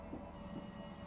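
A telephone rings inside the horror game Rise of Insanity, a steady electronic trill that fills the whole short moment at a low, even level with no one talking over it.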